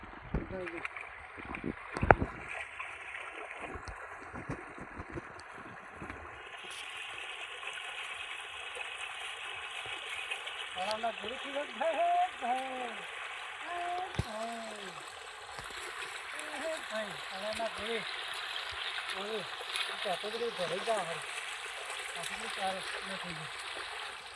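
Irrigation water rushes and gurgles steadily across a castor field, a continuous flowing wash with a few splashes and voices talking over it.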